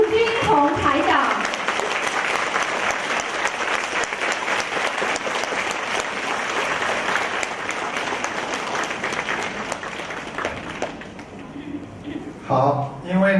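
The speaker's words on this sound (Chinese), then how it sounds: "让我们用最热烈的掌声恭喜我们尊敬的卢军宏台长" Sustained, loud audience applause fills a hall in Bangkok as a speaker is welcomed to the stage, a dense wash of clapping that fades near the end into a brief voice over the last of the claps.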